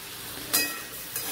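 Potatoes fry in a pan for a Bengali-style mutton curry, giving a steady close sizzle with two sharp bursts of spattering as they are stirred.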